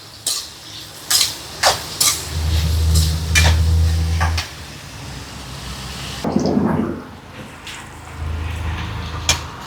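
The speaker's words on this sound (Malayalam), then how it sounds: "ഇപ്പോൾ ഒരുവിധം മൂത്ത് വന്നിട്ടുണ്ട് കേട്ടോ" Spices such as chilli, coriander, pepper and turmeric roast in a pan, a soft sizzle broken by sharp clinks and scrapes of stirring and a louder clatter midway, with no talking.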